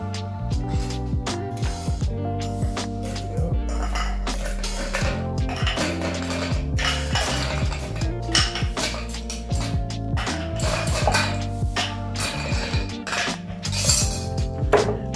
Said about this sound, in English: so we're gonna fill our mixing glass full of ice cubes